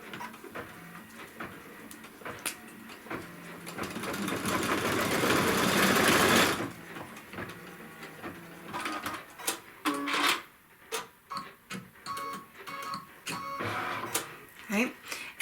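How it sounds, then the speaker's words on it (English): An embroidery machine stitches in a hoop for a Kimberbell stitch sampler, giving a steady mechanical whirring and rapid needle chatter that swells loudly for a stretch, then breaks into shorter bursts while a person talks over it. "what it will stitch next will be the seam"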